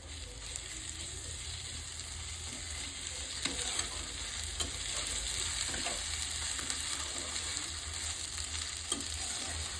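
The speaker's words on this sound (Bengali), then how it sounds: "এইভাবে আমি মশলাটাকে মিনিমাম 15 মিনিট কষিয়ে নিচ্ছি।" Spice paste for country chicken curry being stir-fried in a pan, with a steady close sizzle and frying hiss throughout and a few scraping stirs, no talking.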